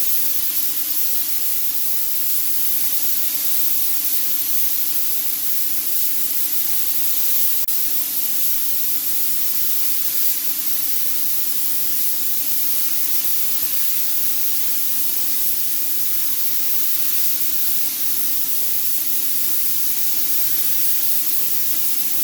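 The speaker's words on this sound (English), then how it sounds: "let's see if we can spray it like this" A conventional spray gun sprays latex paint onto a front door, a loud, constant airy hiss that runs unbroken without pauses or talk.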